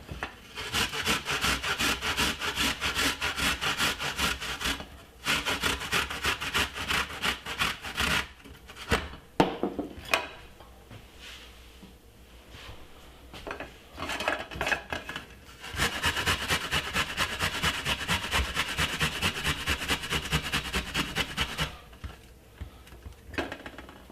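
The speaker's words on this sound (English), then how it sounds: "So what I'm gonna do is grate my ginger." Fresh ginger rubbed against a kitchen grater at home, a steady rhythmic rasping scrape in long stretches broken by short pauses, close and fairly loud with no talking.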